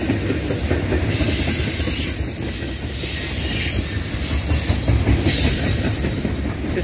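Norfolk Southern mixed freight train cars roll steadily past up close, a continuous loud rumble of wheels on rail with rhythmic clacking and occasional high metallic squeals and hiss throughout, no voices.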